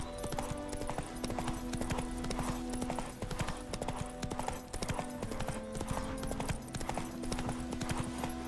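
Roach, the horse in the Witcher 3 video game, trots with steady, loud clip-clopping hooves in a continuous rhythm over game music and ambience, with no talking.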